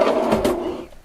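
Drawer sliding open or shut inside a DIY Sprinter camper van with pine cabin fittings, one short rolling scrape that fades out within a second, close by with no talking.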